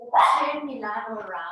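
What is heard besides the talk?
dog barking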